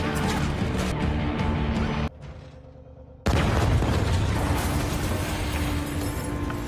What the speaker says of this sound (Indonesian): melihat ledakan besar tersebut, Beckett akhirnya sadar